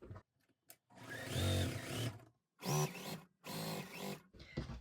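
Sewing machine stitching quilt block pieces during chain piecing, a close motor whir in three steady runs separated by short pauses, with no talking.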